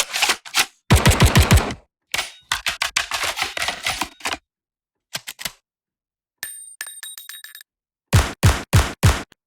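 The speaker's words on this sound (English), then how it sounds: "these sound to me sort of like more gun mechanic type sounds," Gun mechanic and reload effects from the Keepforest Evolution Devastator Warzone pack: loud, rhythmic bursts of sharp metallic clacks and racking clicks separated by silences, including a quick rattling run and a ringing, bell-like metal sequence, with no talking.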